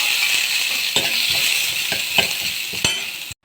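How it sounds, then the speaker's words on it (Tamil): Shallots, dried red chillies and curry leaves frying in a pan after mustard seeds have popped, a steady bright sizzle with a few sharp spoon scrapes and taps against the metal, then a sudden cutoff. "கடுகு பொரிஞ்சதும் சின்ன வெங்காயம், காஞ்ச மிளகா, கருவேப்பிலை போட்டு நல்லா வறுத்துக்காங்க"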